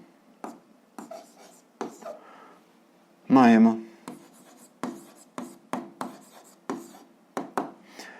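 Pen strokes scratch across paper in a series of short close scribbles while writing out an algebra answer, with one longer voiced sound breaking in midway.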